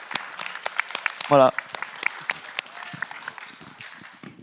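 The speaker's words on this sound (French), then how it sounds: "On peut applaudir." A conference audience at a YouTubers panel bursts into a short round of applause, clapping under a speaker's French talk in a hall.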